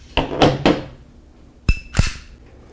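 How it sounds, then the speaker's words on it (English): A Czech Vz.52 pistol being handled, with a cluster of sharp metallic clacks followed by two louder clunks as the magazine drops free, loud and close. "so you need to drop the mag"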